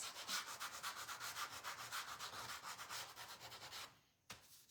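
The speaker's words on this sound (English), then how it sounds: "let's sand our little sticks" Small wooden craft sticks are sanded by hand for a summer birdie DIY craft, giving a close, steady back-and-forth rasping scrub that stops near the end, followed by a single light tap.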